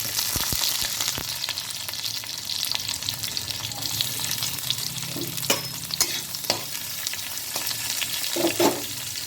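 Onions fry in hot oil in a wok with a dense, continuous sizzle, broken by scraping and clinking stirs that come more often in the second half.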